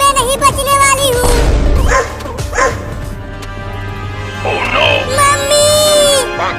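A dog barks and yips in short bursts that come again near the end, loud and close, mixed with music and brief whimpering tones.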